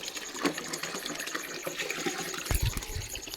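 Dirty water gushing and running out of an emptying household water tank, a continuous close splashing flow with a heavier burst of gushing near the end.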